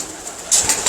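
Pigeons kept by a fancier make brief, soft sounds with a hint of wing flutter, ending in a louder burst, over a fraction of a second, with no voices.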